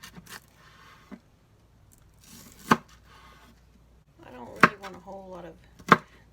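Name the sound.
knife chopping onions for coleslaw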